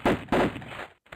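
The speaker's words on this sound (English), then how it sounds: "Let me see if I get the sound of the gunshots." Two loud, sharp gunshot blasts from a Sega Saturn video game, close together with a short decaying tail, followed by a brief quieter burst.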